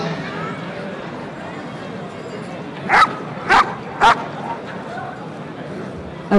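A police dog barks three sharp times in quick succession during a KNPV working-dog trial, fairly close over a steady outdoor background while someone talks throughout.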